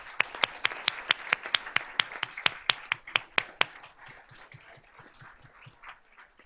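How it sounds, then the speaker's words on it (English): Applause for students at a Board of Trustees meeting: one nearby clapper strikes sharp, evenly spaced claps over softer scattered clapping from a small crowd, fading out over a few seconds. "Let's give these students a round of applause"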